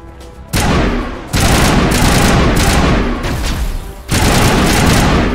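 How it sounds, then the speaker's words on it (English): Gunfire in the Mass Effect video game: loud, close bursts of rapid automatic shots that come in several sustained volleys with short gaps between them, and no voices are heard. "Is there enemies? Because you're shooting at stuff."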